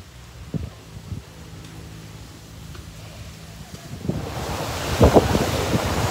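Strong waves at high tide roll onto White Beach in Boracay, with a low wash that grows louder and rougher toward the end, mixed with gusty wind buffeting the microphone.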